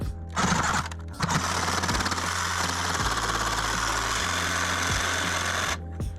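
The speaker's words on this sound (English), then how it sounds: "So we're just getting this sawzall up in here. We're going to cut this just like this." A Sawzall reciprocating saw cuts through sprinkler pipe with a loud, close, rapid buzzing rattle that runs steadily for several seconds, its pitch dropping slightly in the middle of the cut before it stops.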